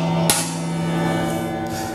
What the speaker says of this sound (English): what I'm gonna do is I'm gonna pre-punch a guide hole